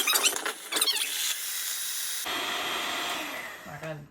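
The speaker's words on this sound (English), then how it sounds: "we're gonna mix it in with our hand mixer again" Electric hand mixer beating vegan gingerbread cookie dough with the last of the flour, a steady whirring buzz after some brief clatter, fairly close and continuous with a short squeak near the end.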